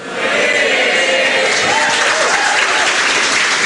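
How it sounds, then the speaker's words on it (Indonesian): A stand-up comedy audience bursts into loud, dense applause, a continuous roar of many hands filling the room close and full for the whole stretch. "Ngapain tepuk tangan?"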